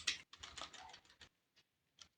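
Go code is typed on a computer keyboard in a quick, close burst of clicky keystrokes, followed by a few isolated taps after a short pause.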